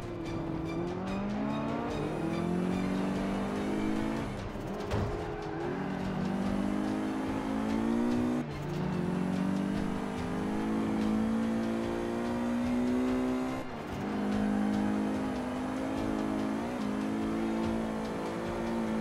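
A BMW M5 engine revving hard while racing in the video game Forza 5, a loud sustained roar that climbs in pitch through the gears with brief drops at each shift, continuous for the whole stretch.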